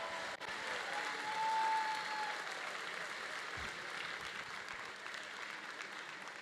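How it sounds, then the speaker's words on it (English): Sustained applause and crowd noise for the competing teams at a Pacific Northwest district robotics event in Sammamish, steady throughout with a brief swell early on. "Let's have a round of applause for all the teams competing here this weekend."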